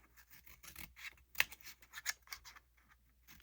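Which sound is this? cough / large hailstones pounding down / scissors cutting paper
scissors cutting paper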